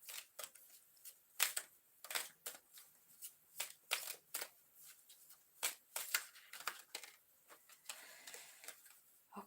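Tarot cards being shuffled by hand, a quick run of crisp riffling flicks and taps in an irregular rhythm, close and fairly quiet, with no talking.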